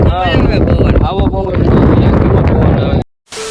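Strong wind by a river buffets the microphone in a roaring rush, with voices shouting over it, then a sudden brief cut to silence near the end.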